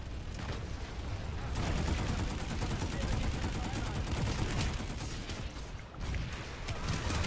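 Dense, continuous gunfire fills a Planetside 2 battle, with overlapping automatic bursts and blasts sounding loud and close throughout, and a person talking over parts of it.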